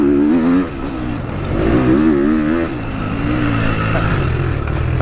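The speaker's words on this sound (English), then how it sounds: "What I like about these is how much they rev." A 2022 GasGas dirt bike engine revs hard and close, rising and falling through high revs in loud, rasping sweeps, with the throttle blipped repeatedly and no talk over it.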